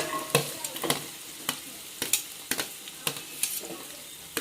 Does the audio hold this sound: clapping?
no